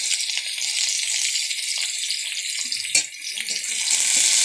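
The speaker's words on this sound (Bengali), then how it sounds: "আলুর সাথে গাজর কুচিগুলোও ভেজে নিচ্ছি" Diced potatoes and chopped carrots frying in a pan, giving a loud, steady sizzling hiss with a brief stirring clatter in the middle before the frying noise swells again.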